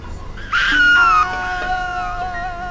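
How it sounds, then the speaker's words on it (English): Shrill screams from people frightened by ghosts in the video game Ghost Master, several overlapping wailing cries that rise sharply, then fade into softer, trailing moans. "So many screams!"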